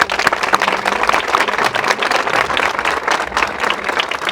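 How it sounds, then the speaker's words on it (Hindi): A room full of people applauds a team leader, producing dense, continuous clapping at close range that stays loud and steady throughout. "मैं सबसे पहले चाहूँगा सिद्धार्थ सर के लिए जोरदार तालियां बजा सभी"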